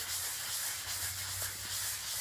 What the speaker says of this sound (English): now gently sanding the leather in order to open it up a little bit